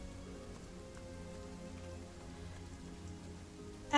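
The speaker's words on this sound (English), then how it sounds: "hearing the rain outside" Steady rain falls outside, with a soft continuous patter and scattered drops, faint and unbroken, with no voices.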